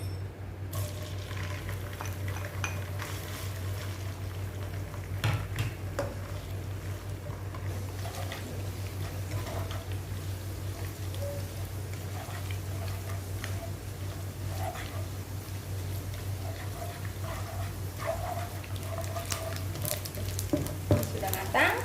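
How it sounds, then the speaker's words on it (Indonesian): Soaked, rinsed teri Medan anchovies fry in hot oil, giving a steady crackling sizzle with scattered sharp pops and ticks throughout, close and continuous with no speech. "Jadi aku mau goreng dulu teri Medannya."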